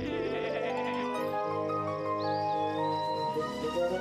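Cartoon sheep bleating in a sunny farm scene, a few wavering, tremolo bleats carried over a bright musical score, clear and fairly loud throughout.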